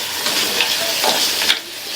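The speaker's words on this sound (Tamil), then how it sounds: "மீடியம் ஃப்ளேம்ல வச்சு 5 to 6 நிமிஷத்துக்கு இந்த முள்ளங்கியை வதக்கிக்கலாம்." Radish pieces sautéing in a pan over a medium flame give a steady close sizzle and hiss, with soft stirring scrapes rising and falling throughout and no voices.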